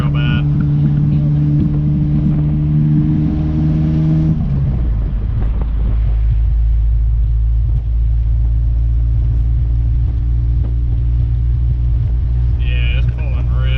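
A loud truck engine rumbles steadily while driving and pulling to the right, a deep continuous drone with a brief surge early on, with people talking over it.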